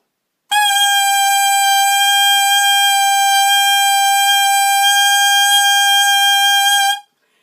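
Tenor saxophone mouthpiece blown alone, a single loud, sustained, harsh buzzing tone held steadily for about six seconds before stopping abruptly.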